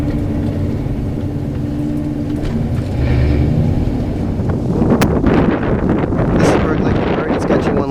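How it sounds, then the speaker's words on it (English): Gusts buffet a camera microphone outdoors, a low rumbling thump that swells and grows rougher midway, with brief voices underneath. "as soon as I turn the camera on, it turns windy"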